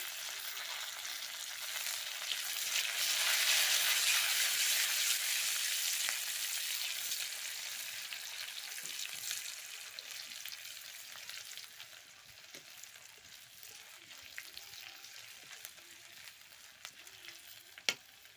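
Tomatoes fry and are stirred in a pan for an Odia-style tomato khatta, giving a steady close sizzle with occasional scraping and clinking from the stirring, and no voices.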